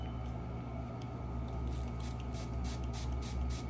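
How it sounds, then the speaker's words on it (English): Facial tonic misted from a spray bottle while preparing an organic clay face mask: a string of soft, airy hissing bursts repeating close by over a steady low background hum. "So I'm gonna spray a little bit. Spray a little bit in of the facial tonic"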